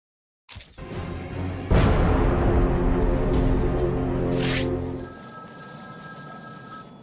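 In the Batman: Return to Arkham City video game, a telephone bell rings loudly and insistently in a sustained burst, then fades to a quieter ringing tone.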